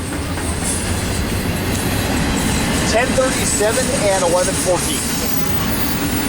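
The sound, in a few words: train passing at Cajon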